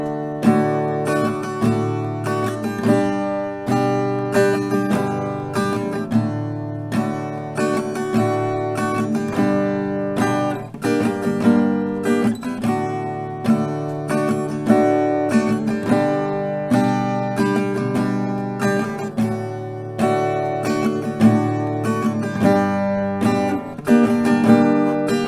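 Acoustic guitar strumming a chord progression, several rounds of steady, full chords played up close with no voices.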